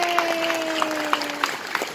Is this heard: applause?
yes